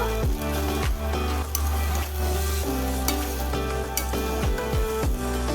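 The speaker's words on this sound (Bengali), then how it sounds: "এবারে চালের সঙ্গে একটু নাড়াচাড়া করে নেব।" Fried pointed gourd, rice and spices are stirred in a hot pan, giving a loud continuous sizzle with periodic scraping strokes of a spatula, close up and without talking.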